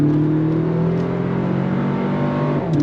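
A 2025 Toyota 4Runner TRD Pro with an 8-speed automatic accelerating on throttle toward highway speed, a steady loud engine drone with rising tones and a brief shift near the end, heard from inside the cabin.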